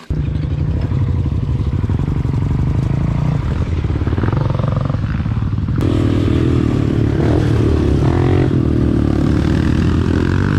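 A 250cc dirt bike rides in second gear on ranch land, its engine droning loud and steady throughout with a shift in pitch partway through as it cruises along, no talking.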